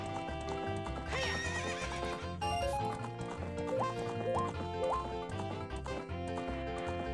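Horse hooves clip-clop with repeated whinnies at Lon Lon Ranch in The Legend of Zelda: Ocarina of Time, steady hoofbeats under a bright game music bed throughout.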